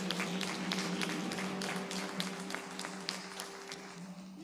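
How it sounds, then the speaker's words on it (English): A church congregation claps hands in praise during a Sunday service, a dense continuous patter of many hands under a sustained organ-like tone. "Let's give God a hand clap of praise."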